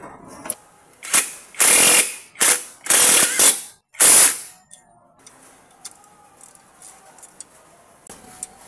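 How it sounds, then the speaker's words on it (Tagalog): A ratchet wrench clicks in several loud, rapid bursts while tightening the nuts on the axle hub of a Toyota Hiace Grandia. Each burst is close and sharp, and quieter handling noises follow. "At ibalik na ang 4 na nut na nakatornilyo sa axle hub."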